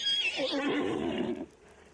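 A horse in the video game Hunt: Showdown lets out a single loud, close neigh that rises, wavers and then cuts off, leaving quiet background.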